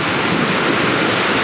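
Floodwater rushes steadily after heavy rain and a landslide at Majua in Sikkim. The roar is dense, loud and broadband, with no voices.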